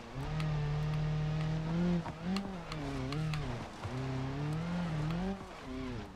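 Car in the BeamNG driving game, driving off-road, with a steady engine drone that rises and falls in pitch as it revs, continuous and fairly loud throughout.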